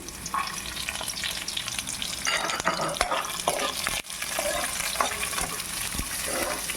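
Chopped onions, garlic, ginger, cinnamon and cloves fry in hot oil, a continuous close crackling sizzle broken by stirring scrapes and a few sharp utensil knocks against the pan.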